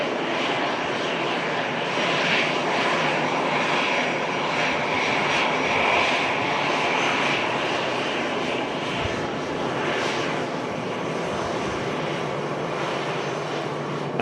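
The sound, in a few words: Airbus A320 jet landing at Manchester Airport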